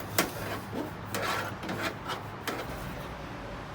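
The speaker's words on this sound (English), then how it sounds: "Just be patient and keep wrenching." Wrench ratcheting and grinding on a stuck bolt while removing the backup camera from a 2007–2008 Chevrolet Suburban or Tahoe, steady rubbing rasps with a few sharp clicks, close up.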